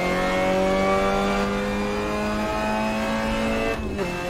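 A car accelerates hard at a Sepang race circuit track day, its engine drone loud and steady with rising harmonic tones, then a brief dip near the end as it shifts or lifts.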